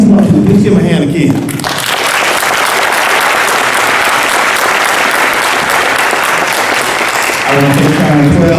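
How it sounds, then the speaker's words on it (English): Applause from an evening audience, a dense sustained roar of clapping that swells in after a voice and fills the room for several seconds before speech returns at the end. "Please give him a hand again."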